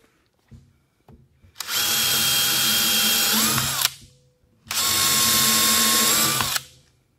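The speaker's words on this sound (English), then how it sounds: "now I'm gonna just go pre-drill 4 screw holes for each one of these" A power drill pre-drills screw holes in saddle pieces for a gas cylinder holder: two loud, steady whirring bursts of about two seconds each, close by, separated by a short pause with light handling clicks before them.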